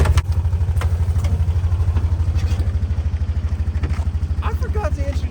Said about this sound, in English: This bad boy right here is my new side-by-side